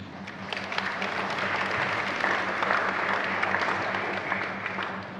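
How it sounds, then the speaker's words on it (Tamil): A church congregation at a First Holy Communion applauds the Tamil choir, with dense, sustained clapping from a crowd over a low background hum, steady and moderately loud for several seconds. "கைதட்டு."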